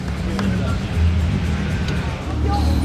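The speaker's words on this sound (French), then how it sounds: "c'est le défilé incessant de Ferrari" Ferrari cars drive past on the streets during the Monaco Grand Prix in a continuous low engine rumble, loud and close, with a busy outdoor crowd and speech mixed in.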